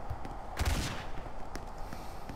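Burst of gunfire in the online survival game Apocalypse Rising, a short rattling volley with a sharp report, followed by fainter single shots over background game ambience.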